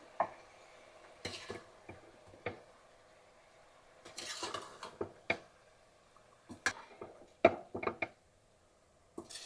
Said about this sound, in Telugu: సో ఇప్పుడు మటన్ అయితే వేసేసుకుందాం. ఒక్కసారి మటన్ అలా కలిపేసుకుందాం.